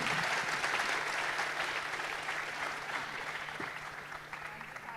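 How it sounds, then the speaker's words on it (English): Sustained applause from a conference audience at a banking and economics conclave, a dense wash of many hands clapping that stays steady and gradually softens over the five seconds. "Thank you very much, ladies and gentlemen. A big round of applause."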